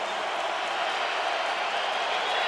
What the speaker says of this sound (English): Crowd in full throat as Brady surveys